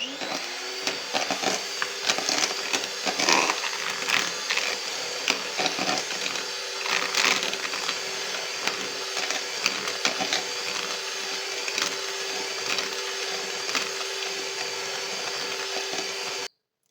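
A kitchen mixer grinds three-quarters of a cup of sugar for a bakery-style plain cake, a steady loud whirring motor with rattling grains that runs continuously and then cuts off abruptly at the end.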